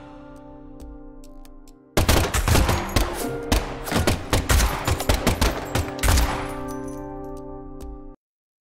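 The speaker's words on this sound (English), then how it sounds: "And the last gunshot we heard sounded ominous, Zach." Gunfire in the horror video game Deadly Premonition 2: a sudden burst of rapid shots with cracking, clinking impacts over a steady music drone, then a fading rumble before cutting off.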